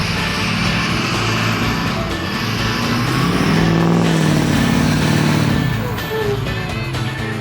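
A big truck's engine runs loud and close while the vehicle is stuck on a small lawn after hauling a large log, a heavy droning roar that swells as the revs climb mid-clip, then eases back.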